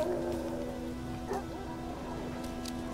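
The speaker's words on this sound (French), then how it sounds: "On entend les chiens." Dogs bark in The Witcher 3 video game. The barks come in short, moderately loud bursts over a constant patter of rain-like background noise.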